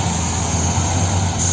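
Two trucks rumble and idle steadily close by at a large solar farm construction site, a continuous heavy engine drone with broad noise and no pauses.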